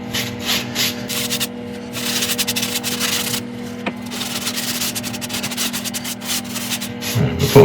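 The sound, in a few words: polishing wood burl with abrasive paste on lathe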